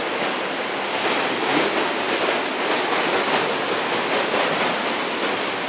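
Rushing water in the Aare gorge near Meiringen, a loud, continuous broadband roar of fast-flowing river with no voices.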